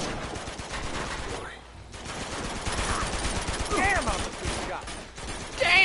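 Gunfire in the video game Uncharted 2 rattles in dense bursts of fusillade mixed with game effects, while a player talks over it.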